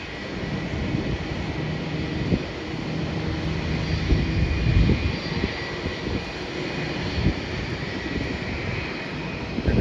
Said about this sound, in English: Wellington is going to be departing now. That is an Airbus A320.